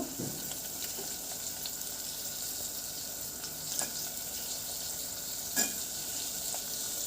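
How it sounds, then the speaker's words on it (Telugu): Green chillies and onion pieces sizzle with salt in a pan for a ridge gourd curry, a steady close frying hiss with a couple of brief stirring clinks and no talk. "పచ్చిమిర్చి ఉల్లిగడ్డ ముక్కలు తొందరగా వేగుతాయండి"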